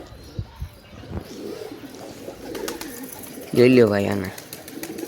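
Pigeons in a flock with squabs give soft cooing calls, ending in a louder near coo, while someone speaks briefly and some faint rustling and taps occur.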